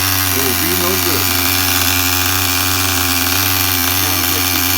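A Tamiya TGS-R nitro RC car engine buzzes steadily with a droning whine, loud and close, holding a constant pitch throughout.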